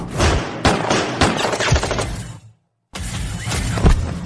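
Repeated gunshots in a fight scene, sharp loud bursts in quick succession, a brief gap of silence, then more rapid firing.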